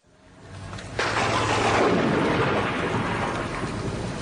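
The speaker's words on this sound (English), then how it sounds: "I see it's coming on to rain at last." Rain breaks out suddenly with a deep roll of thunder, then settles into a loud, steady downpour that fills the scene.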